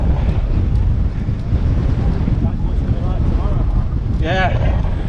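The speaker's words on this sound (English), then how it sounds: "Wind is incredible." Strong wind buffets the microphone on a Peak District hilltop during a mountain bike ride, a loud, constant low roar that runs throughout, with a brief whistling tone near the end.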